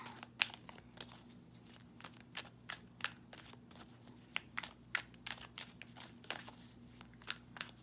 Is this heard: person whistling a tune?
no